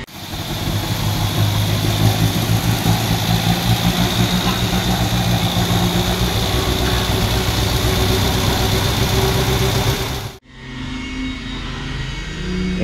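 A 1959 MGA's engine idles steadily and loudly up close, a continuous low rumble that briefly dips near the end before resuming.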